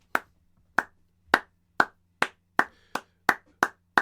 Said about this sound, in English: I will clap in your honor